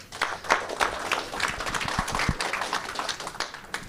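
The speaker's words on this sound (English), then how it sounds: "if you could give a round of applause for Robin here" Modest applause from a small audience at an AI hackathon meetup, a thin patter of scattered claps with a few low thumps and room noise underneath.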